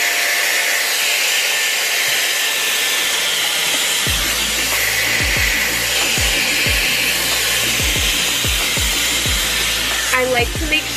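A hair dryer roars steadily and close while blow-drying hair for a blowout, a continuous loud whoosh with faint brushing or handling sounds layered underneath.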